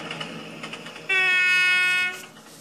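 A tram's horn sounds one loud sustained blast of about a second, its pitch shifting downward as it passes, following some rumbling street noise and fading afterward.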